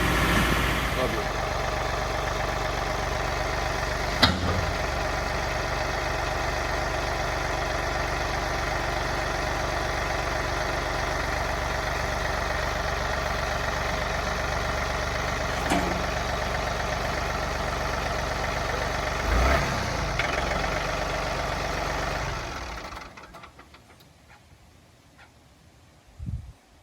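A tractor engine idles steadily at close range for most of the stretch, a low continuous rumble with a few sharp knocks, before shutting off and leaving near silence.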